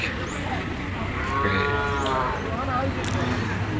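A black cow with reddish underbelly at a crowded cattle market in Sylhet lets out a drawn-out moo, loud and close, over a busy murmur of voices.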